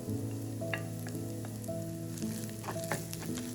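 Green chilies, cardamom, cinnamon bark, rampe, turmeric, salt and chili flakes fry in a pan for a Sri Lankan ripe mango curry. The quiet, steady sizzle is broken by small crackles and pops, with no talking.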